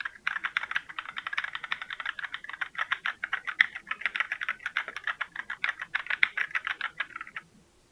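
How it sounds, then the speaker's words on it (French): Rapid, continuous typing on a loud, clattery keyboard, keys clicking close up for several seconds before stopping. "les touches du clavier."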